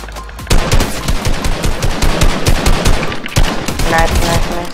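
Gunfire in Fortnite crackles in rapid, loud bursts of close shots, dense and continuous over a few seconds with a brief pause midway.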